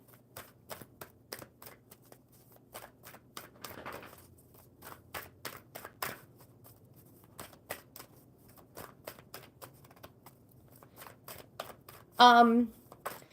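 Rapid riffling and soft slaps of a deck of cards being shuffled, repeated in quick bursts, with a brief voice near the end.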